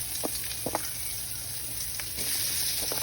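Onions fry in hot oil with a steady, close sizzle and scattered small pops and crackles throughout.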